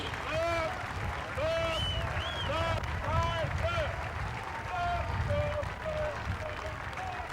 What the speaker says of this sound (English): a great big round of applause for 150 brand new airmen.